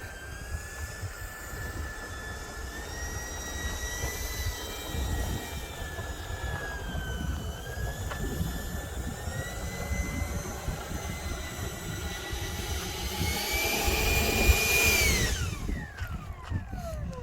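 A 95-inch FunScale F/A-18C RC jet on its maiden flight, a turbine whine rising and falling in pitch as it passes, swelling louder near the end before sweeping away, with light wind noise underneath.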